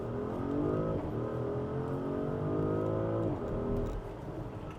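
A 2024 Porsche Cayenne S, a 460-horsepower SUV in Sport Plus mode, accelerates hard with a loud, steady engine roar as the revs climb and hold high, then shift and dip briefly before pulling again.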